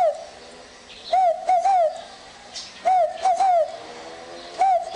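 A person imitates the fogo-apagou dove call, whistling short cooing phrases in three clear bursts separated by pauses, close and alone, with faint background hiss.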